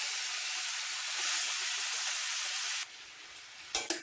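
Chicken pieces and garlic sizzle loudly in hot butter, a steady hissing fry that stops abruptly and is followed by a couple of faint clanks.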